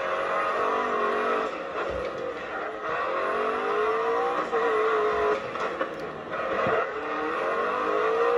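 Open-wheel F1 race car engine from a first-person cockpit-view driving video game, a steady high-pitched whine rising and falling through gear shifts, loud and continuous with no talk.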